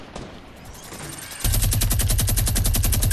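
Loud rapid-fire gunshots in Fortnite 50v50 burst in after a quieter stretch, with a fast, even stream of sharp, close shots.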